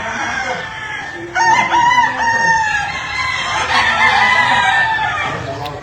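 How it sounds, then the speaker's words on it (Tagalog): Several chickens clucking with a rooster crowing, steady farmyard chatter throughout with a louder crow partway in. "Oy, pakit-on takas kong mga manok."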